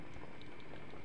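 Dense, steady crackle and sizzle of pork frying in hot oil in a pan, a continuous bubbling spatter with no voices.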